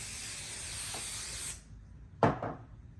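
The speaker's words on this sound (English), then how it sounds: "I can spray a little more." Basting spray hisses in a steady close stream onto a quilt for about a second and a half, then stops, followed by a short rustle as the fabric is handled and smoothed.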